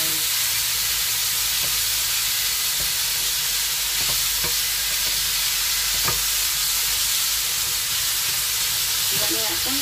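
Pork belly fries in a pan and is stirred until golden brown, giving a constant close sizzle and hiss with scattered scraping clicks from the stirring.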